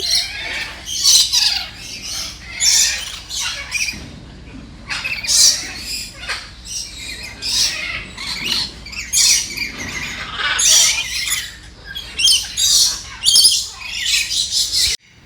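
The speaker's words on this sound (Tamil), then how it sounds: "ரெயின்போ லாரிக்கீட்னு சொல்லப்படுற ஒரு பறவை வகை, ஆஸ்திரேலியாவுக்குரியது." Rainbow lorikeets, a multicoloured Australian parrot, squawk in a bird park in Hambantota, Sri Lanka, with a dense flock of shrill, overlapping screeches and chatter in rapid bursts, loud and close, with no talking.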